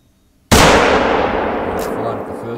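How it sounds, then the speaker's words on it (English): A single loud .338 rifle shot rings out at a distant buck in theHunter: Call of the Wild, a sharp crack followed by a long rolling echo that decays slowly over a couple of seconds. "This is the furthest shot of the day, I'd imagine."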